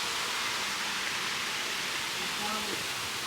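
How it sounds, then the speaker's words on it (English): Fall Creek Falls in Tennessee pours down as a steady, dense roar of falling water, a loud constant rush with no breaks, while someone speaks faintly underneath it. "Just one of the Fall Creek Falls."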